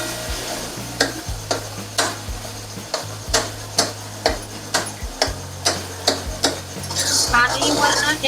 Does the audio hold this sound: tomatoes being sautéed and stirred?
yes